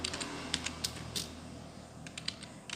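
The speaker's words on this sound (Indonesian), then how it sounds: "saya mengetik" Quiet, close computer keyboard typing comes in irregular bursts of light clicks, with short pauses between them.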